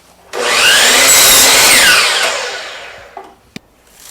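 A power saw cuts a board for a wooden plant stand, a loud whining cut that rises sharply, holds for about two seconds and winds down, followed by a couple of sharp knocks of wood at close range.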